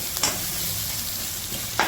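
Chicken for a curry fries in a pan with a dense, close sizzle, broken by a couple of brief stirring scrapes near the start and end.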